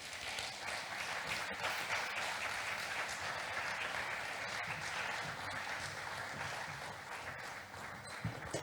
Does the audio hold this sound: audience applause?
yes